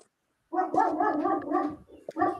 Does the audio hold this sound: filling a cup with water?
no